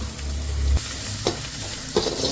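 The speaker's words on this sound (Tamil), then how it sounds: "இந்த கேரட்டும் கொஞ்சம் நல்லா வதங்கட்டும்" Carrots sautéing in a pan for egg fried rice, with coriander, mint, salt and pepper added: a continuous close sizzle broken by a few spoon scrapes, and no voices.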